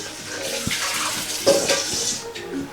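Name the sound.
pouring melted mixture into ginger cake batter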